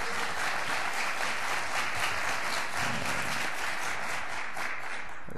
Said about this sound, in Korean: 한번 격려의 박수 한번 해주시기 바랍니다